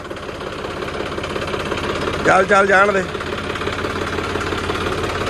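A tractor engine idles steadily on a farm with a rhythmic chug throughout, while a man briefly calls out over it midway.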